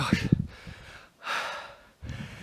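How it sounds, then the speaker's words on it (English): Heavy, labored breathing after a steep climb up a path at a slate quarry, three close, breathy gasps spaced about a second apart with brief pauses between them. "Heavy breathing."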